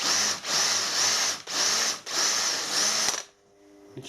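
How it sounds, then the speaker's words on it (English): A milling cutter works through a silver-soldered brass oil pipe in a series of about five rising and falling whirring bursts, close and fairly loud, before the machine stops abruptly and a quiet hum remains. "For that I'm going to use a milling cutter because the drill will be a little bit too fierce as it broke through."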